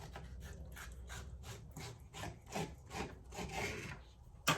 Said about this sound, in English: when I slice the tomato, it's all going to come off into little pieces